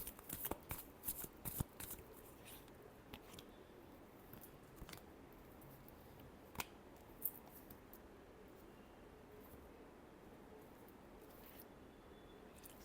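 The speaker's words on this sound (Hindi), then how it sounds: "last shuffle" Tarot cards shuffled by hand at close range during a love reading, a quiet run of soft riffling flicks and taps, busiest at the start and thinning into sparse clicks over faint room hiss.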